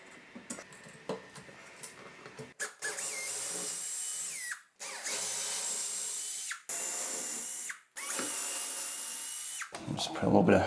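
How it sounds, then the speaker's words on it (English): A power drill whines in several sustained bursts of a few seconds each, separated by brief pauses, loud and close, drilling through ceramic tile. "for ceramic, it's gonna be really easy to drill through,"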